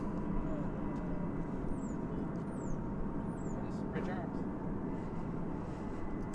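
An airliner finishing a long flight from Anchorage rumbles steadily on arrival at DFW Airport, a broad continuous engine roar heard from a distance, with faint bird chirps above it.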